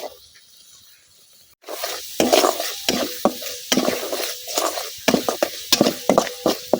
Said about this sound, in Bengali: মশলা আর শীতল খুব ভালোভাবে কষায় নেন।